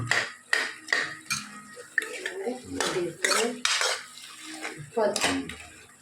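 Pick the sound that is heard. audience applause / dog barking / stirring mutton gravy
stirring mutton gravy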